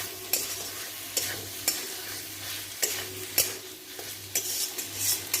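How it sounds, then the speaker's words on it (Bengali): Grated paneer being stir-fried in a pan gives a steady close sizzle, broken by repeated scraping knocks of a spoon against the pan. No one speaks. "ওইটা দিয়ে আমি একটুখানি পনিরটা দিয়ে কষাবো।"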